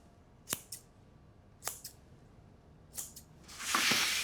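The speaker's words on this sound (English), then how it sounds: "I'm going to use a pair of scissors just to do a bit of cut on the big one" Scissors snipping into soft brioche dough, with three distinct double-snip cuts spaced about a second apart, close and fairly quiet, followed by a brief hiss of handling at the end.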